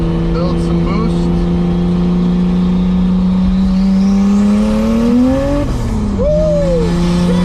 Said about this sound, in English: let's find a second and do a little second gear pull right quick. I'm gonna get after this bump. Build some boost.